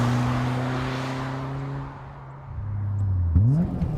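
A BMW M3 E30 race car accelerates on a track, its engine note holding high and loud, dropping briefly, then climbing again through a sharp rising rev near the end.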